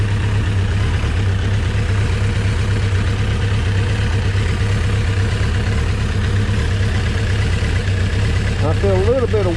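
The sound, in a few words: Kawasaki 1000 Concours motorcycle engine idling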